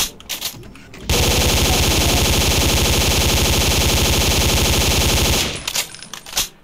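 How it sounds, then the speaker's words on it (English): A fully automatic .45 ACP gun fires in a video game as one loud, sustained burst of rapid shots lasting about four seconds, with quieter game sounds before and after. "It's 45 ACP and it's firing fully automatic, so naturally, this is gonna be some kick."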